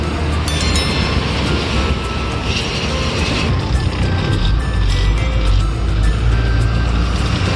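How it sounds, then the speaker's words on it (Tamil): Steady, loud rumble of a moving car overtaking a train, with wind and road noise throughout. Faint rail sounds and brief high tones sit over the drone. "நம்ம ட்ரெயினையே ஓவர்டேக் பண்ணுறோம்"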